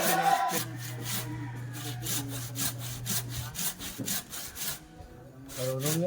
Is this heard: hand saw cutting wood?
yes